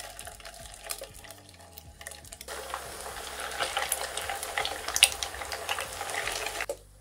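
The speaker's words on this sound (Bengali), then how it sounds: "দিব আমার কোপ্তাগুলো ভাজার জন্যে।" Fish kofta balls made from chitol fish go into hot oil. The oil breaks into a steady sizzle partway through and keeps going loudly, with a few soft clinks and stirring noises before it starts.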